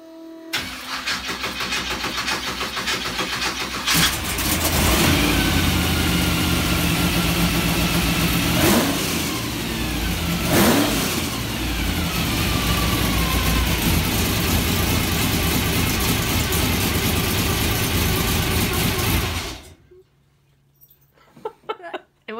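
A home-built Chevrolet Corvette engine cranks, catches and fires up loudly, then revs hard with repeated throttle blips and a rising roar before cutting off abruptly near the end.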